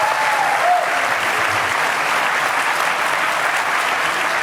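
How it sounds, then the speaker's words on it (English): A full-house audience in a theater applauds before a political debate, loud and continuous clapping that holds steady throughout with no one speaking over it. "That means you can clap."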